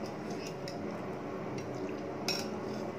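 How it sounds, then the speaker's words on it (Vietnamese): Cooked black tapioca pearls being scooped from a pot onto a plate, with faint metal-and-ceramic clinks and a sharper clatter near the end over quiet, wet background noise. "Đây mình sẽ vớt ra đĩa nhé."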